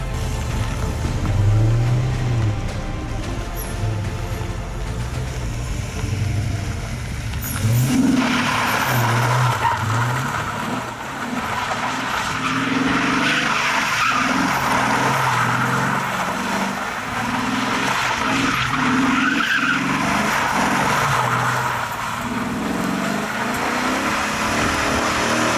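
An LS-swapped Ford Mustang drifts, its engine roaring and revving hard over continuous tire squeal. The sound is loud and sustained for the whole stretch, with rising and falling throttle and no talking.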